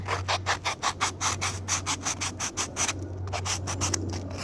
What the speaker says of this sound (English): I'm going to sand the corners